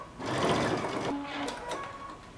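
Sewing machine top stitching a lace sweater knit dress an eighth of an inch from the seam line, a steady close mechanical whir running for about a second before easing into lighter, intermittent stitching.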